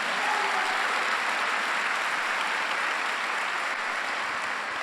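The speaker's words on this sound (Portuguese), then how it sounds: "pode aplaudir o Senhor" Broad, even applause from a congregation during a Sunday church service, sustained at full strength for the whole stretch with no speech over it.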